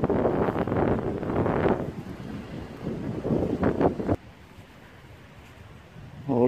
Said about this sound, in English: it's gone really windy now